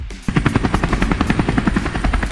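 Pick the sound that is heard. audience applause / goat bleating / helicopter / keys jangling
helicopter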